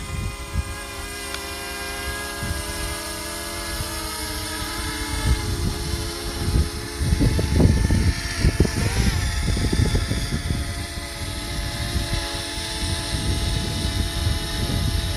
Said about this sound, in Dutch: op een nieuwe dronevlucht hier te Zeeland